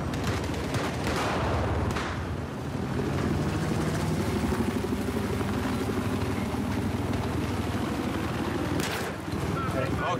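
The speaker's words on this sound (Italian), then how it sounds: "elicottero nemico localizzato." An enemy helicopter in the video game Battlefield 4, a steady rotor roar mixed with bursts of gunfire through a dense battle soundscape, with a player shouting over it.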